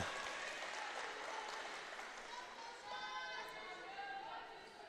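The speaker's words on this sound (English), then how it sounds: "And applause from the crowd as she's able to do that." A basketball gym crowd at a girls' 15U national tournament game applauds steadily, a dense wash of clapping with chatter mixed in, fairly distant and easing off toward the end.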